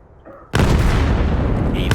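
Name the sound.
grenade explosions in the video game Vail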